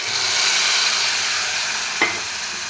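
Boiled dal tipped into a hot tadka for Odia-style dal fry, giving a steady broad sizzle in the pan with a brief louder splash of hiss near the end.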